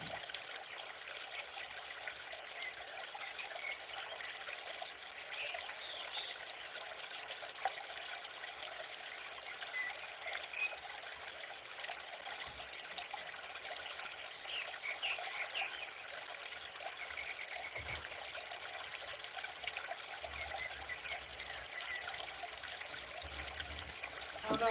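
Latte drips and trickles from a coffee machine in a soft, continuous stream lasting many seconds, fairly quiet and steady, with faint background noise and no talking.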